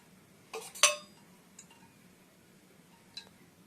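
A metal pan set down on a home stove with oil poured in, heard as a few sharp clinks and a clatter followed by fainter isolated taps in an otherwise quiet kitchen.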